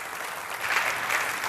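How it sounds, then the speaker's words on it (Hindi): Studio audience applause welcoming a contestant on a televised quiz game show: a short burst of dense, steady clapping that swells slightly midway. "जोरदार तालियों के साथ स्वागत।"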